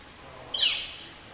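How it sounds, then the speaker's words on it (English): A single short, high bird call rings out once from a distance, against a quiet outdoor background. "Got us a bird up there."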